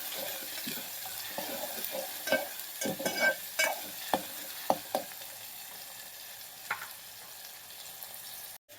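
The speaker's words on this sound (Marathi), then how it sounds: "कांदा आणि टोमॅटो भाजायचा आहे व्यवस्थित, एकदम सोनेरी कलर येईपर्यंत" Onion and tomato fry in a pan over a steady hiss, with scattered spatula scrapes and clicks breaking through now and then, close and moderately loud, no voices.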